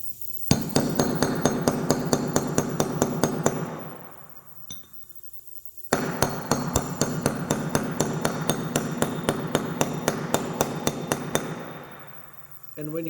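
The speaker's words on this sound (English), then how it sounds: "we're going to use one of these sockets to gently tap it into place" A bearing is tapped into place with a socket and hammer on a Suzuki LT80 build: a rapid, even run of ringing metallic taps, a short pause, then a second longer run, close and sharp.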